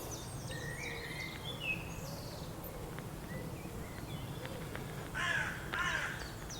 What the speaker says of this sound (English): Good morning, Mr. Crow.